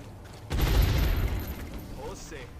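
A sudden loud burst of weapon fire in the strategy game XCOM: Long War, booming and then trailing off over about two seconds, with a voice talking around it.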